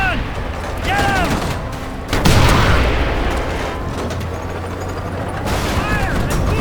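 Gunfire and heavy blasts in the video game Mercenaries 2: World in Flames, a loud sustained roar of shooting with a sudden big impact midway, layered over whistling effects and game noise.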